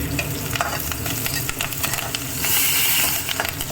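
Green chillies, curry leaves and coconut fry and sizzle steadily in a pan, a dense continuous crackle and hiss with occasional stirring clinks from a spoon, close and fairly loud with no talking.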